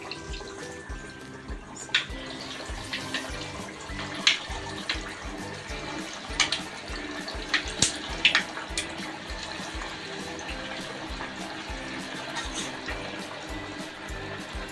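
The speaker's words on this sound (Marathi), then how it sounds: "तेल अगदी छान तापलेलं असल्यामुळे पटपट कडल्या जाते." Coriander vadi, a Maharashtrian herb fritter, fries in hot oil with a constant close hiss and sizzle, broken by scattered sharp pops and crackles, and no talking.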